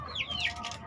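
Young hens in a closed coop cluck softly with short rising calls, faint and close, with a low background rumble.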